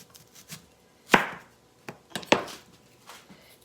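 A knife cuts through an onion into rings for a salad: two sharp, close chops on a board about a second apart, with faint small clinks between them.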